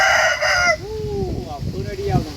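A white rooster crows close by in the rain, a single long strained crow with rising and falling pitch that breaks into a wavering tail over steady rain and wind noise.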